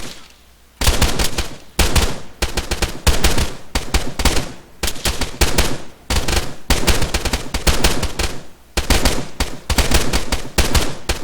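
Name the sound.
gunfire at targets in a video game shooting range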